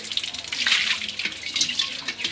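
Running tap water splashing steadily while dishes and plates are washed by hand, a continuous close hiss of water with small clatters, no talking.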